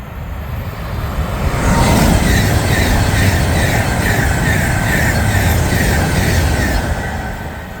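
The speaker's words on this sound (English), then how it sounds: "past 39 is an Avanti West Coast Stars 390 running from Stockport to London Euston" An Avanti West Coast Class 390 electric train running from Stockport to London Euston rushes past at Berkhamsted, a loud, steady roar that swells and then fades slightly.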